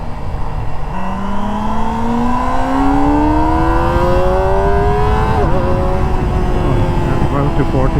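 A 2024 Kawasaki ZX-25R SE four-cylinder motorcycle revving high through a residential area, its engine note climbing steadily in a loud rising scream toward 12,000 to 14,000 RPM before shifting and settling.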